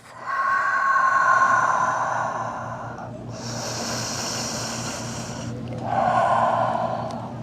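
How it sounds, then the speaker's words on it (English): Slow, deep yoga breaths during a flow sequence: a long audible inhale, a whooshing exhale, then another inhale, close and clear with no talking. "Take a deep breath."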